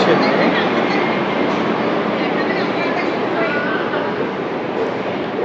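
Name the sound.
train arriving at a railway station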